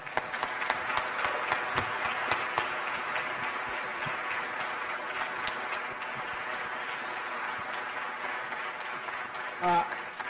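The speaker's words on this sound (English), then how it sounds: "Dr. Crawford, Tim Smith, round of applause, please." An audience at a Fort Wayne community event gives a round of applause, a dense, steady wash of many hands clapping, with a few sharper nearby claps early and a brief voice near the end.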